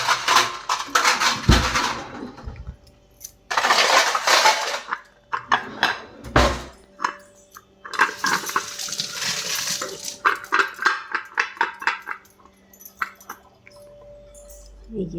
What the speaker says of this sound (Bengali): দুধের জন্য একটা প্লেট নিয়ে আসি, প্লেট দিয়ে ঢেকে দেবো।